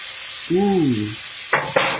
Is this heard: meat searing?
yes